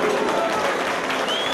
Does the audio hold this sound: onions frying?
no